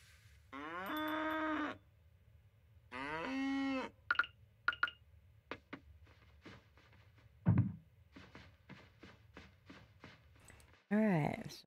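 Cows moo in the farming game Coral Island, with two long, loud lows in quick succession and a third near the end, among scattered clicks and short footstep-like taps.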